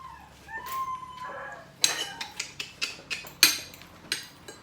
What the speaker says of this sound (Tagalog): Ingay ng aso na.